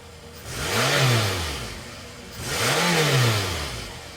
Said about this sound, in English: Next, start the engine.